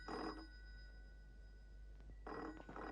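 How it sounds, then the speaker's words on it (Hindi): An old telephone bell rings in two loud bursts separated by a pause, over a steady low hum in an indoor scene from a Hindi TV serial, no speech. "फोन बज रहा है, फोन देखना पड़ेगा।"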